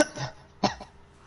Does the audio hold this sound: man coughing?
yes